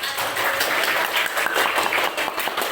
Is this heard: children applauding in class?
yes